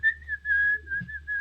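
A person whistles a short rhythmic tune to the beat of a song, with clear, close, bright notes coming in quick phrases and brief gaps between them.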